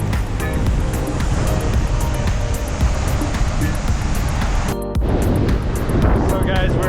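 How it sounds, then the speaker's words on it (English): Strong wind gusting at Seven Mile Beach on Grand Cayman, a steady roar with surf washing in over it, loud throughout and broken by a short dip near the end. "that wind is pretty strong today"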